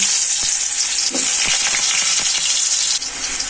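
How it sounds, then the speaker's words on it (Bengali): Potatoes frying in leftover lentil-fritter oil in a Bengali home kitchen give a steady, close hiss of bubbling oil with a few soft clicks and stirring knocks throughout. "বড়া ভাজার তেলে আমি এই আলুগুলো ভেজে নিব।"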